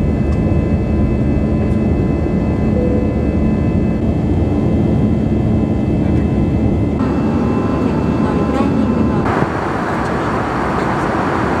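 An airplane lands at Okinawa at night, heard as a loud, steady engine and cabin roar that drops in level near the end, with no clear speech.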